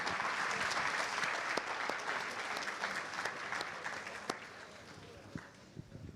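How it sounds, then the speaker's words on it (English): Audience applause at the Formula Student 2025 awards and closing ceremony, a dense, steady wash of many hands clapping for several seconds with sharper individual claps near the end, gradually thinning out. "Big round of applause, please."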